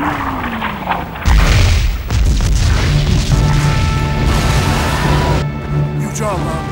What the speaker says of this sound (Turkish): Bu patlaması nedir böyle?